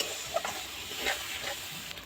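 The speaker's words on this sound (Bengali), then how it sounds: "মশলাটা আবার ভালো করে একটু কষিয়ে নেব।" Spiced paste of cashew, poppy seed and melon seed frying in oil in a pan, a quiet continuous sizzle with soft stirring scrapes.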